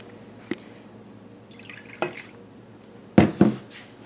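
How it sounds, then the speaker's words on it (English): Apple cider vinegar is poured out to measure it, giving a few scattered drips and splashes that end in two louder liquid splashes near the end, close and fairly quiet. "I'm going to pour my 2 ounces out."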